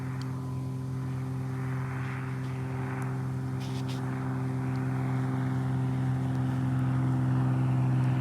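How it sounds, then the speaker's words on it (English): A steady, droning airplane engine hums continuously at moderate loudness as it flies by, with a low tonal buzz holding throughout and no talking. "if the airplane is coming by"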